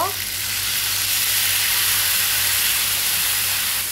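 Skipjack tuna (tulingan) fries in a pan with a loud, continuous sizzle that holds steady throughout, with no talking.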